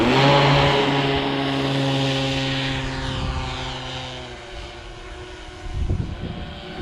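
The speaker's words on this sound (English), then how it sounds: "if I can get this plane up without it having a disaster" High buzzing whine of a small model plane's propeller, steady at first, then fading as it flies farther away.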